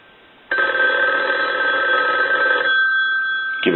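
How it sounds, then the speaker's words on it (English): An old wall telephone bell rings loudly in one long continuous trill, stops briefly, then starts ringing again at the end. "I want to ring the telephone."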